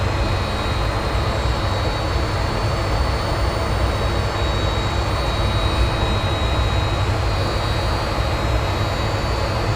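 An F18 jet taking off in the Infinite Flight simulator at Portland runway 28 right: a steady, loud jet engine roar with a constant hum and faint high tones, unbroken throughout and with no talking.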